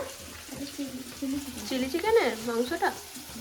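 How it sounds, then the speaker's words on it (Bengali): Chili chicken frying in a pan, a soft sizzle with stirring scrapes and wet crackles building in the middle, with a voice speaking over it. "ওদের চিলি চিকেনটা এখানে ফ্রাই করা হচ্ছে"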